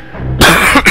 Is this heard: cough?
yes